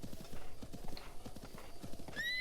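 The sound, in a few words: horse galloping and neighing in the video game Breath of the Wild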